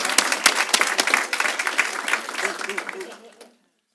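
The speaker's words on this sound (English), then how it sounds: "we want to clap? Let's clap." Audience clapping at a school district board meeting, a lively burst of many hands with some voices mixed in, tapering off and stopping abruptly after about three and a half seconds.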